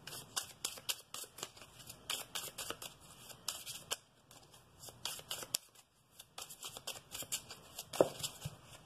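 Law of attraction cards shuffled by hand in a burst of quick riffling snaps with short pauses between, close and fairly quiet, with no talking.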